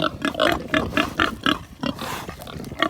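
A piglet squeals repeatedly after being given an injection on a pig farm, sharp piercing cries in a rapid uneven series, loud and close, with no talking.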